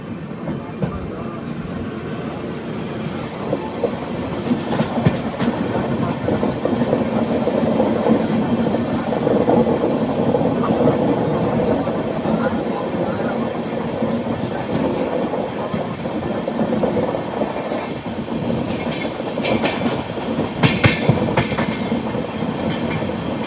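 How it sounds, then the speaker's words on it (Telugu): The Pinakini Super Fast Express rolls along the tracks with a continuous rumble and clickety-clack of wheels over rail joints, heard from on board, with a few sharper clanks and some talking. "ఇలా మన ట్రైన్ ఒంగోలు వచ్చింది."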